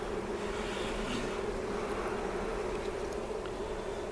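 A swarm of honey bees at a hive, a steady close buzzing hum that fills the whole stretch without a break and with no voices.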